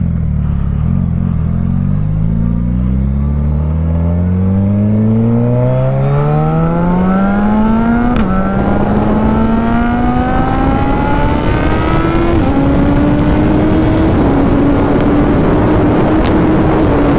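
Suzuki Hayabusa motorcycle pulling hard on a straight road, loud close engine note climbing steadily through gears with brief dips at each shift, wind rush underneath, no speech.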